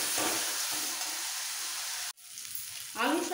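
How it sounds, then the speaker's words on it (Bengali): Spice masala for an egg curry sizzles loudly and steadily in a pan. After a brief break, the hiss surges again as fried potatoes are tipped in and stirred. "একটু কষানো হয়ে গেলে সাথে সাথে দিয়ে দিচ্ছি ভেজে রাখা আলুগুলো"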